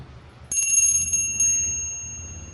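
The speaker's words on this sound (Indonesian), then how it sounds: "saya akan melanjutkan dengan bunyi tanda lonceng berbunyi" A bright metallic bell rings twice in close succession, loud and clear, its tone ringing on and slowly fading.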